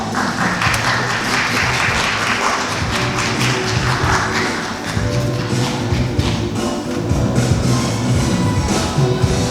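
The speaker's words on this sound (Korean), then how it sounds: "여러분들 박수와 함께 맞이해 주시기 바랍니다" Loud, sustained applause from a conference audience welcoming panel speakers at a Busan webtoon festival, many hands clapping densely and evenly for several seconds with occasional thumps, with no talk over it.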